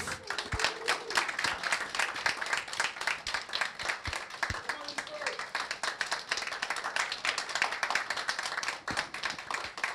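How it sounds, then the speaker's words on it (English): Live audience applause welcoming footballer Dimitar Berbatov at a League of Legends event: loud, close, distinct individual claps forming a lively round that continues steadily, with brief voices underneath. "Please give a very, very warm welcome, round of applause for the one and only Dimitar Berbatov"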